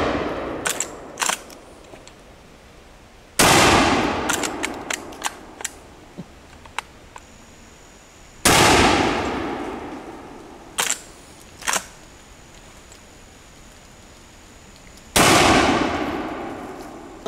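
Gunfire in a supernatural-themed Halloween shootout: several loud, sharp shots ring out one after another with long decaying echoes, spaced several seconds apart, with smaller clicks and clanks between them and no talking.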